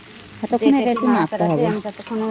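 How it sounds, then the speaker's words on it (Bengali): Pasta with egg sizzles and fries in a pan while a utensil stirs it continuously, scraping and clattering loudly up close. "এটা নাড়তে হবে মানে থেমে রাখলে হবে না তো অনাবহত নাড়তে হবে"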